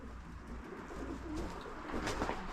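Soft, fairly distant cooing from pigeons roosting in a farm barn with an old baler, blended into a faint, steady background hum with a few light rustles.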